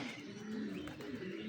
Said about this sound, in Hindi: देखें जंगली कबूतर भी साथ ही खाते रहते हैं इधर आके